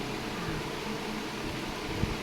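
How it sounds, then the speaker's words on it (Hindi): A loud electric fan runs without a break, giving a steady broadband whoosh with a faint low hum and one small knock near the end. No one speaks. "पंखा बहुत तेज आवाज़ है"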